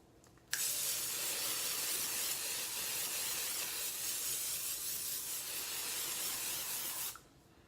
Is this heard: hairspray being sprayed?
yes